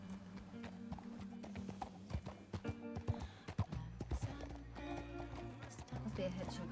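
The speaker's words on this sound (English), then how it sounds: "You hear those horses?" Horse hooves clip-clopping in a Western video game, a steady rhythmic trot close by with an occasional whinny, mixed under music and people talking.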